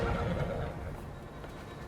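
Pack horse neighing beside a flooded frontier creek, a brief whinny amid rushing water and outdoor noise, fairly faint.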